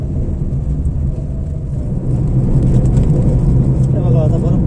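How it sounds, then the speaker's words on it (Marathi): Road traffic on a highway service road under construction, a continuous low rumble of passing cars and heavier vehicles that swells louder midway, with a person talking over it. "ते पूर्ण सर्व्हिस रोड सारखंच ट्रॅफिक चालू आहे"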